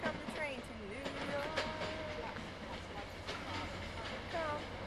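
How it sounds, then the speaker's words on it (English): A train runs on rails during a day trip to the city, a steady rumbling roll with faint squeals and clatter beneath people talking throughout. "Here come the train to New"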